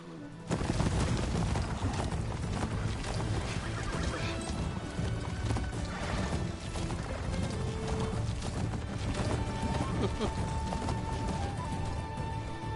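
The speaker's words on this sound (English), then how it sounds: "He's never rode the robot horse before." Robot horse gallops in Horizon Forbidden West, its steady hoofbeat clatter running continuously with mechanical clanks and game effects layered over it, at moderate level.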